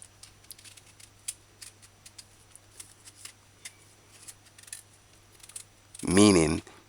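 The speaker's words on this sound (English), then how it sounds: "Peel sweet potato cautiously," A sharp knife peels the skin from a sweet potato in a string of small, crisp scraping clicks at close range. A voice speaks loudly near the end.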